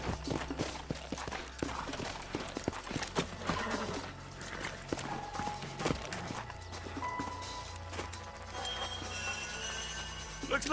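Horses in the video game Red Dead Redemption move along with clip-clop hoofbeats and occasional whinnies, mixed with dense game sound effects and rustling, fairly loud and busy throughout.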